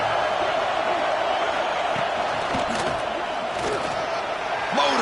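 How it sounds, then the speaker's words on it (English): Stadium crowd noise at an Alabama versus Ohio State college football game, a loud, continuous roar of many voices behind a commentator's play-by-play. "And here comes the noise. This crowd is trying to inspire this defense to make a big red zone stop."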